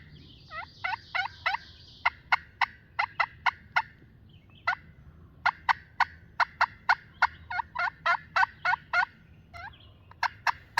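Wild turkey gobbling during an early-season hunt in Virginia, heard as a long series of sharp, evenly spaced gobbles and calls that come in quick bursts, fairly close and clear against a quiet woodland background.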